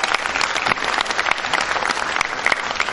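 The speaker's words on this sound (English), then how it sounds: "Can we please welcome him with a huge round of applause?" Large school audience gives a loud round of applause to welcome the chairman of CBSE at a Maxfort Dwarka event, continuous dense clapping sustained at even strength from start to end.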